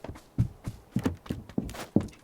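Footsteps in the game New State Mobile, a steady series of soft thuds spaced roughly a third of a second apart, fairly close, with no talk.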